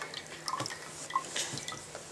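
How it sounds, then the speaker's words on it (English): A reserved cup of kombucha liquid poured into a jar makes a faint, sparse trickle with a few soft drips and splashes over a quiet background. "you're going to pour in that reserved cup of liquid"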